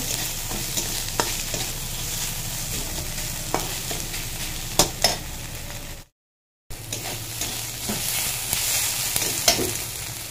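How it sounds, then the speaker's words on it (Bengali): Ginger and garlic fry with onions in a pan, a steady close sizzle with scraping stirs and occasional clinks, briefly cut off before the sizzling resumes. "আদা রসুনটা ভালো করে পেঁয়াজের সঙ্গে ভেজে নেব"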